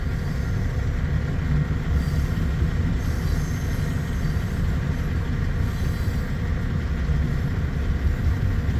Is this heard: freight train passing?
yes